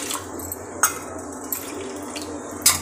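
Water poured into rice flour in a non-stick pan while making kachri, heard as a soft liquid pour with a few sharp clinks and splashes spread across the moment, fairly quiet throughout.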